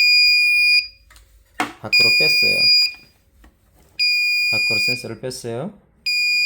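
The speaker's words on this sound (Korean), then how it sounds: "자, 부저가 울립니다." A cold-storage freezer's alarm buzzer sounds in steady high-pitched bursts, stopping and restarting several times while someone talks close by between the tones.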